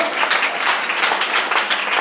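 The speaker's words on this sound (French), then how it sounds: "Et nous applaudissons bien fort le Seigneur." Church congregation applauding together during a worship service, a dense, steady wash of clapping from many hands filling the room for the full stretch without any talk.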